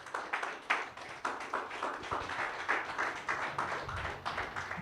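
Church congregation clapping in rhythmic, evenly spaced bursts, a steady repeated pattern of hand claps from a crowd, moderately loud with a faint voice underneath.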